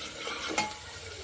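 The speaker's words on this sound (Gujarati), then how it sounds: "તો થોડુંક વાર સતળાય ત્યાં સુધી સાતળવા દઈશું." Undhiyu vegetables sauté in a pan with a soft, faint sizzle and one brief scrape of stirring.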